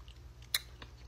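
Someone chews gummy blackberry-flavored throat lozenges, making soft wet mouth sounds and one crisp crunch, close to the microphone over a low background hum, with no speech.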